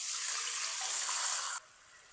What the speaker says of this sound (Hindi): 1 कटोरी सूजी है तो इसके साथ की ये 1-2 कटोरी हम पानी की शामिल कर देंगे।